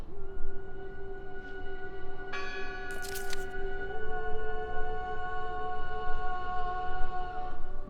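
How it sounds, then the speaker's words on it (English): Church bell in the game Draugen rings out over a steady ambient drone, its bright strikes standing out for a few seconds in the middle of the stretch before the sound settles back. "I heard the bell!"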